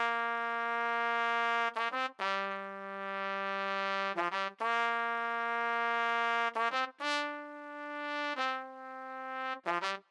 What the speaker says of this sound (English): they put a horn on top that sounds something like this